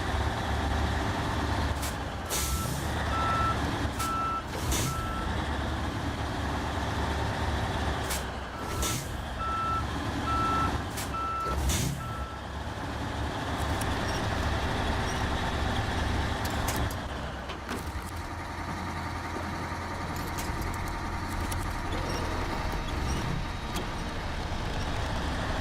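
Heavy truck engine rumbling steadily in the off-road driving game SnowRunner, with bursts of repeated reversing beeps in short runs and an occasional air-brake hiss, loud and continuous with no talk.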